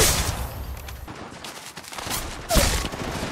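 Rapid automatic gunfire in the Apex Legends Mobile video game, dense bursts of shots with a louder crack near the end, close and continuous.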